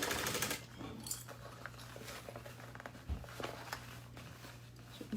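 A home sewing machine stitching fabric, its motor hum running steadily close by with irregular clicks and light taps over it, no voices.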